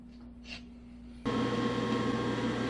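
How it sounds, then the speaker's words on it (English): A rotary phase converter starts up partway through, jumping from a quiet hum to a loud, steady electrical drone with a constant whine. "Sorry about the noise. That's my rotary phase converter."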